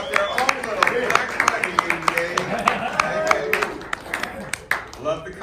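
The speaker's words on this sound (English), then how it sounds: "Keep the applause going for Jewish Family Services." Audience applause rolls on at a healthcare self-advocacy conference, a dense, steady patter of many hands heard beneath cheering voices and people talking over it.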